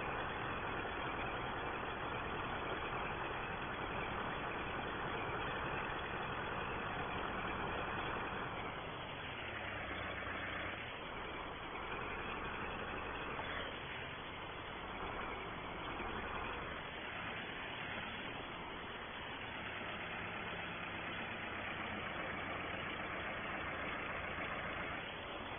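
A 1964 Ford 5000 tractor ploughing a field runs its engine steadily and loudly for the whole stretch, with gentle rises and dips in pitch as the load changes and no voices.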